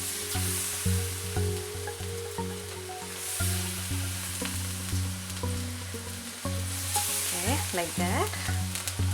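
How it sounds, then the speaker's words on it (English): Banana pieces for Kerala-style pazham pori fritters sizzle in hot oil, a steady close frying hiss under a persistent low hum, with a few brief clinks and a short spoken remark. "Now we can put those banana pieces into the oil"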